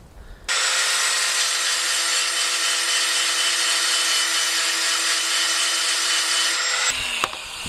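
A power tool grinds notches into the edge of a reaper sword blade, a loud, steady high whine that starts abruptly, holds for several seconds, then cuts off.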